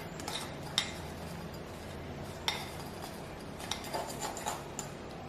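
Utensil scrapes and light clinks sound as cinnamon roll filling is spread across rolled-out dough, faint and intermittent with a few sharper taps.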